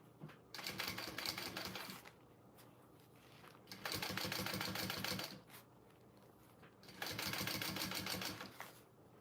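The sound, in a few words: sewing machine topstitching a bowler bag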